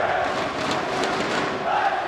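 Arena crowd roar at a CS2 semi-final between Spirit and Vitality at IEM Dallas 2024, a steady dense wash of many voices with slight swells, continuous and fairly distant.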